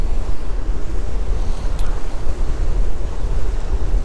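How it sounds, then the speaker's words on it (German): Strong wind gusts at Harderwijk harbour in the Netherlands, a loud low rumbling roar buffeting the microphone continuously, with water and boats nearby. "Es ist sehr windig."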